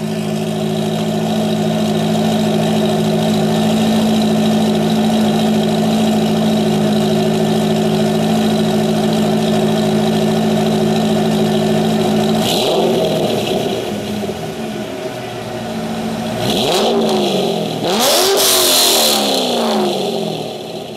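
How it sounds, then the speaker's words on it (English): Fitted with exhaust cutouts, a Corvette Z06 V8 idles with a steady low rumble, then is revved sharply a few times, each blip rising and falling before settling back, loud and close with no voices. "I'll just rev it about once or twice,"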